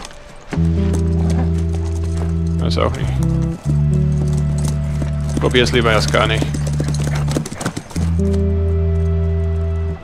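Hooves clip-clop in a steady rhythm as a horse is ridden in The Last of Us, under a constant low in-game drone, while someone talks over it and the horse briefly snorts or whinnies.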